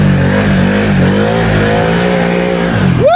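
A Can-Am Outlander single-cylinder ATV on 33-inch tires with 18% gear reduction accelerates hard through mud, its engine droning loud and steady with a rising whine at the very end.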